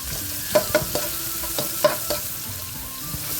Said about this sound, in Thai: ขั้นตอนแรกใส่น้ำมันลงไป แล้วก็จะใส่พริกแกงของเขาลงไปเนอะ